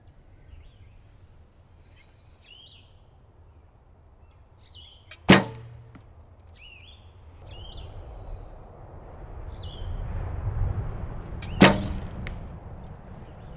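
An Olympic recurve bow shoots arrows, with two sharp, loud releases far apart amid quiet outdoor ambience and faint chirping birds.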